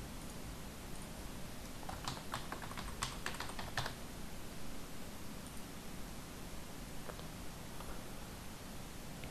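Rapid clicking keystrokes on a computer keyboard as a username and password are entered, bunched in a burst of a couple of seconds over a steady background hiss, then a few scattered taps; nearby and moderately quiet, no speech.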